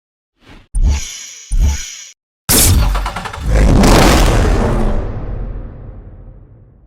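A Mercedes-Benz SL65 AMG Black Series with a 6-liter V12 bi-turbo engine in the racing game NFS Hot Pursuit gives two short, sharp revs, then a loud roaring surge that fades slowly away.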